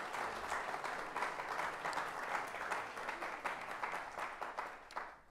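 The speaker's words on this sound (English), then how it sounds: "A round of applause for Judge Moore." Audience applause at the close of an interview on a panel event stage, steady broad clapping from a full room lasting several seconds before tapering off at the end.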